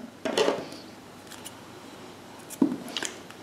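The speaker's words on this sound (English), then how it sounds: "now I will cut the remaining yarn here" Scissors snip through yarn on a crochet bead, two short sharp cuts about two seconds apart, close and fairly quiet.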